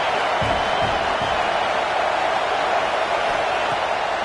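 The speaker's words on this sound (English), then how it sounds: "This crowd bringing the energy and noise early." Stadium crowd at a football game, a steady, distant wall of roaring and cheering with no breaks.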